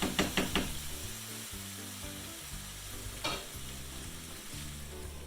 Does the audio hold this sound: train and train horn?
no